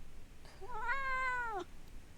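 A house cat meows close into a microphone, one drawn-out rising and falling meow that stands alone over a quiet background hiss.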